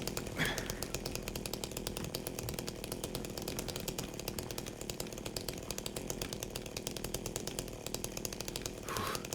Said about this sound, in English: James busts out the chainsaw.